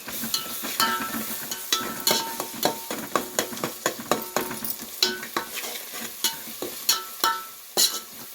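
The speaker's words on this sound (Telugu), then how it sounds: "అద్రక్ లసన్ పేస్ట్ అండి. కొంచెం ఇది ఫ్రై చేయాలి." Ginger garlic paste fries in a pan, with steady close sizzling and repeated sharp scrapes of a spoon stirring against the metal throughout, and no talk.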